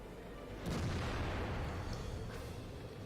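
A tank cannon fires in World of Tanks, from an M18 Hellcat, as a single loud boom about two-thirds of a second in, followed by a sustained rumbling tail that holds over steady low battle noise.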